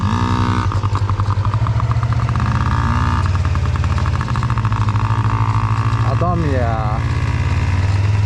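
A Yamaha PW50 mini motorcycle engine runs loud and close with a rapid, buzzy pulse, holding a steady throttle with a brief rise in pitch near the end.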